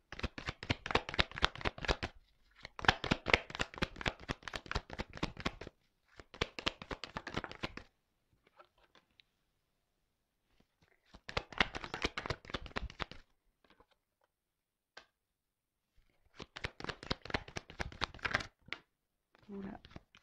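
Tarot cards being shuffled and drawn, crisp riffling and flicking in several bursts separated by short pauses, close and fairly quiet, with a voice speaking at times.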